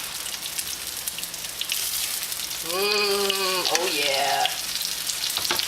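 Breaded chicken Milanese crackles and sizzles loudly in a pan just after being flipped, a steady close frying hiss that continues under a man's brief spoken exclamation midway.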